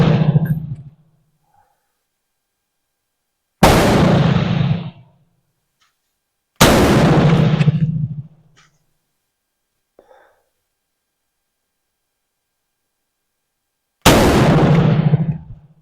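Three loud MAS 49/56 rifle shots fired at spaced intervals, each a sharp blast with a short booming decay, separated by stretches of near silence.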